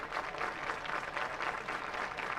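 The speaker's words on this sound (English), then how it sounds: "The crowd trying to urge Kavan on to get the last out here" A college softball crowd at an Ole Miss versus Texas game claps and cheers steadily, a dense wash of applause from the stands.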